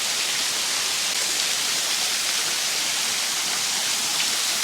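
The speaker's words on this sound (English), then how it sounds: "There's another fall here, and they just come under this footbridge" A small waterfall in the Victorian high country pours beneath a footbridge, giving a steady, full rushing roar that stays constant and close throughout with no other sounds.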